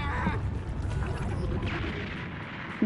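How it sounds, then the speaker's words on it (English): A deep, rumbling explosion in the video game Dragon Ball Z Kakarot rolls on steadily at moderate loudness for about three seconds, ending with a sharp little hit. "It's gonna explode."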